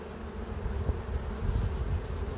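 Honey bees buzz at an open hive during a late-summer colony inspection, a dense continuous low drone that swells and dips slightly, close and steady with no talking.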